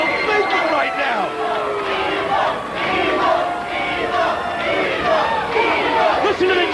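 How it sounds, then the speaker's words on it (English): Wrestling crowd at the TNA Asylum chanting "evil" in a loud, continuous roar of many voices with rhythmic rising shouts, filling the arena, with commentary talk underneath. "Listen to the chant. Evil, evil from the crowd here at the TNA Asylum."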